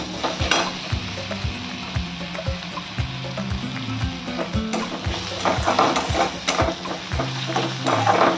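Ginger garlic paste frying with onions in a pan, a steady close sizzle with repeated scraping stir strokes throughout.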